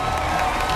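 A studio audience at a televised Vietnamese singing competition semifinal cheers and claps loudly as a judge is introduced, a dense, steady wall of crowd noise.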